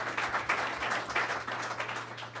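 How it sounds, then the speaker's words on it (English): Brief round of applause for Roger at a government economic development announcement, a dense wash of many hands clapping at moderate distance, steady and unbroken throughout. "big round of applause for Roger"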